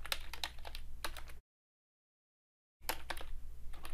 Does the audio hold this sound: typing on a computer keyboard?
yes